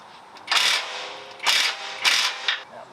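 A hand ratchet loosens the lower control arm nuts on a 5th generation Toyota 4Runner in three loud, close bursts of rapid clicking, separated by short pauses.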